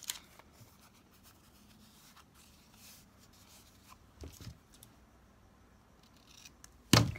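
Scissors cutting craft material for a coffin-shaped decoration give a few quiet, sparse snips and rustles in a near-silent room, with one sharper louder snip at the very end.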